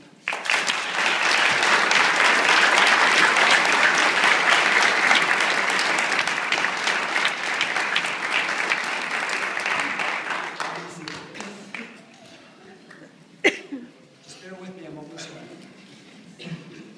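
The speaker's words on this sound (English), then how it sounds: "Let's give these important people, your loved ones, a round of applause." Audience at a police academy graduation gives a loud, sustained round of applause that swells quickly and holds for about ten seconds before fading into scattered claps, murmuring voices and a single sharp knock.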